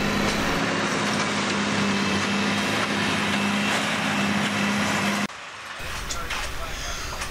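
Railway track maintenance machine working on the rails in Ypsilanti, Michigan, a loud steady engine drone with a low hum that drops abruptly near the end into quieter rumbling and clatter.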